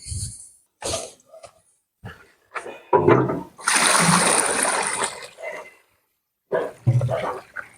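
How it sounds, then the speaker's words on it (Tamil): Water is poured into a sheep feed mix on a sheep farm, making a close, loud, steady splashing rush for about two seconds, framed by short knocks, coughs and bursts of activity. "இது தண்ணி ஊத்துற இப்போ பாருங்க தண்ணி"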